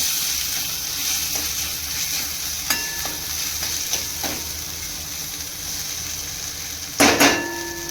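Red chilli powder, salt and spice masala fry in oil for cluster bean curry, a steady close sizzle with a spoon stirring and scraping the pan, a louder clatter near the end.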